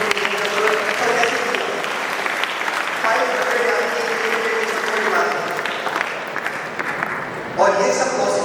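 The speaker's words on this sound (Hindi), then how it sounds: "अब ताली बजा सकते हैं" A seminar audience breaks into sustained, dense applause that holds steady for several seconds before a brief swell near the end, with some voices faintly underneath.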